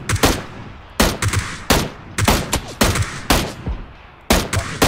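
Repeated gunfire in a PUBG-style battle royale shooter: sharp, loud shots in irregular bursts and single cracks across the whole stretch, with no talk over them.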